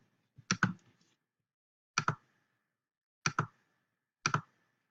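Computer mouse clicking on a trading chart: four close double clicks, each a crisp pair of taps, spaced about a second apart in an otherwise quiet room.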